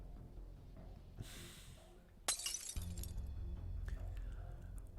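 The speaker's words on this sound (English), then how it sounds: "The crisp sound of glass shattering echoes across the empty room." A sharp glass-shattering effect from the game Arknights bursts out once, loud and bright, followed by tinkling fragments settling over a low ambient drone, with no talking.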